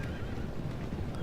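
A horse whinnies during an Empire: Total War battle, a faint, short neigh set against a low rumble of hooves and field noise, distant and quiet.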